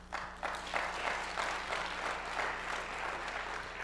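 A church audience at Emmanuel Baptist applauds steadily, a dense wash of hand claps with a few louder bursts, filling the room for several seconds without talk.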